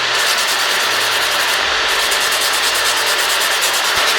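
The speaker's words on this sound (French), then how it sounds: "Je prends ensuite un bloc 4 faces à grain 100 et je viens matifier" A 100-grit four-sided block buffs a fingernail in fast, close, continuous rasping strokes, loud and steady throughout with a faint rhythmic back-and-forth pulse.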